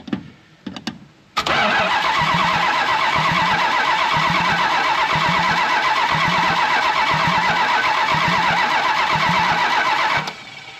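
A 1968 Plymouth Road Runner engine without headers or manifolds cranks on the starter in a loud, steady rhythmic chug for about nine seconds after a few short clicks, then stops.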